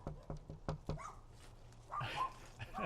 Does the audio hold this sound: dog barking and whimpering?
yes